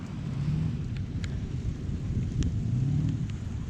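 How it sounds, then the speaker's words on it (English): Cold rain falls steadily outdoors in Florida, a broad constant hiss with low rumbling underneath that carries on evenly throughout, with no voices. "It's a cold rain, folks."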